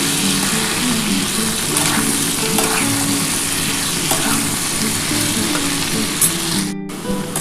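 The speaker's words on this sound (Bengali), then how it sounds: "আমার কিন্তু আলুটা কিন্তু ভাজা হয়ে এসছে, খুব বেশি ভাজলাম না, হালকা করে একটু ভেজে নিয়েছি।" Potato pieces fry lightly with salt in a pan for aloo posto, a close steady sizzle punctuated by the scrape and knock of a spatula stirring, with a brief gap near the end.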